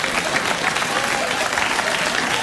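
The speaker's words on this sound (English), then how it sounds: "Don't applaud like I said something political" A late-night talk show studio audience applauds, giving a dense, even wash of clapping that holds at a steady level with no talking over it.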